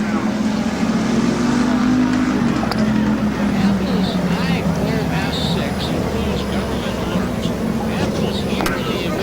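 Race cars spinning out together on the front stretch of Midvale Speedway, a steady loud engine roar and tire noise filling the clip while an announcer talks over it.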